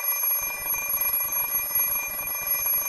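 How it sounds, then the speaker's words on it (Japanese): An alarm clock rings in a visual novel game, a fast, steady electronic beeping that starts after a brief moment of quiet and continues unbroken at close, even volume. "あらかじめ30分ずらして目覚ましをセットしたんだから"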